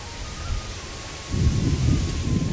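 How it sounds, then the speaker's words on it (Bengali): An early-morning nor'wester thunderstorm: rain hisses steadily while a deep rumble of thunder swells up halfway through and rolls on to the end. "মনে হচ্ছে কি কালবৈশাখী ঝড় এসে পড়েছে"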